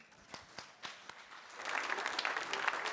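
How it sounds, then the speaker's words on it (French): A few scattered, spaced claps first, then a full round of audience applause swells up and continues at a lively level, at the official presentation of Golden Globe Race sailing skippers. "Merci, applaudissements pour Jean-Luc Vandenette"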